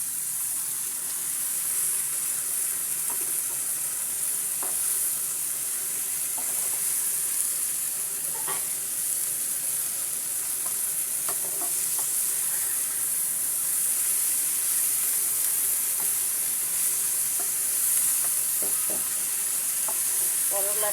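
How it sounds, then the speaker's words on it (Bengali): Chopped bitter gourd frying in a pan over low-to-medium heat, a steady bright sizzle running throughout with scattered clinks and scrapes of a spatula stirring the pieces. "এখন আমি দিয়ে দেব কেটে ধুয়ে রাখা করলা"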